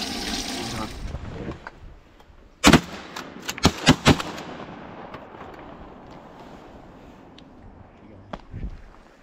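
Several loud gunshots boom at an outdoor duck hunt, a single blast followed by a quick cluster of three or four more, then a fainter shot later amid open-air background noise.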